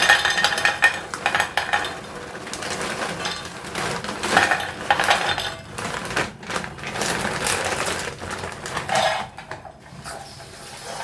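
Pots, pans and metal utensils clatter and scrape in a home kitchen while soybeans are readied for boiling, a steady run of irregular clinks and knocks close by with brief pauses, no talking.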